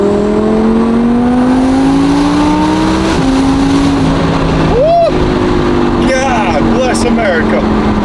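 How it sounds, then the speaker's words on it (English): An Audi R8 V10 with 55,000 miles revs loudly, engine pitch rising through gears and then dropping off, with crackling pops on the overrun near the end, all under a voice. "now let's actually listen to the sound of this car"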